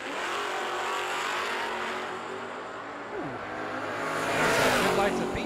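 Two drag racing cars, a 1992 Mustang and a 1988 G-body, roar down the strip side by side, engines loud and sustained with a rising surge near the end, while an announcer talks over the noise.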